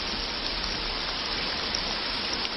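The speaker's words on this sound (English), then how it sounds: "You gotta sit in the rain." Steady outdoor rainfall, a dense, even hiss of drops falling continuously at close range with no pauses or voices.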